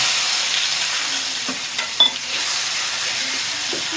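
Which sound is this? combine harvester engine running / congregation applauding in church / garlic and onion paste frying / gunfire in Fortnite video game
garlic and onion paste frying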